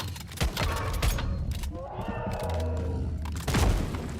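Sniper rifle fire in the video game Once Human during a solo fight against the Forsaken Giant, several sharp booming shots spaced across the moment over a rumbling game soundscape, close and loud.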